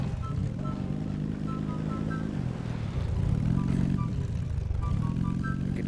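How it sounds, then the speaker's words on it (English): A vehicle engine at max power with a level 3 engine in the video game Scrap Mechanic: a loud, steady droning motor that surges in pitch in repeating waves, with no talking over it. "Level 3 engine max power."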